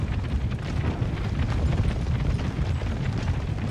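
Shrapnel shot explosions in Empire: Total War rumble as a continuous, dense series of deep booms, loud and layered with no pauses and no voices.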